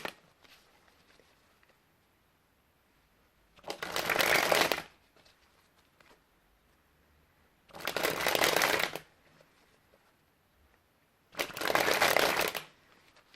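Three separate bursts of playing cards fired off in a spring flourish, each a dense riffling whir lasting about a second, close and fairly loud with quiet gaps between.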